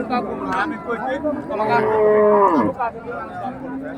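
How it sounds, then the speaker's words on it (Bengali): A crossbred, bony cow lets out a long, loud moo at a busy livestock market, with people talking and crowd chatter close around it. "এই যে ক্রোসের হাড্ডি সার গরু হ্যাঁ।"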